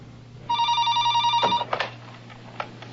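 A telephone rings once with a bright electronic trill, followed by faint clicks of the handset being picked up in a quiet room.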